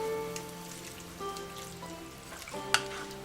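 General Tso's sauce simmers at a boil while cornstarch slurry goes in, a soft steady bubbling sizzle from the pot with a faint background hum and one brief sharp clink near the end, no voices.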